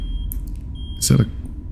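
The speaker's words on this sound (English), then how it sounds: "normally it's a smoke detector alarm, but I don't see anything on fire" A smoke detector alarm in a horror video game emits a steady high electronic tone under low game ambience, then a voice breaks in loudly near the end.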